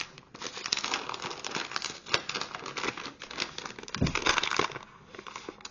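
Packaging crinkles and crackles up close as it is handled and unwrapped, a dense run of irregular rustling bursts with a louder crumpling swell near the end.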